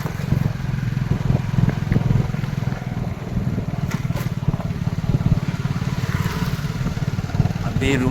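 A motorcycle rides along a gravel road under construction, its engine droning steadily throughout with loose stones crunching and clattering under the tyres, recorded close from the bike.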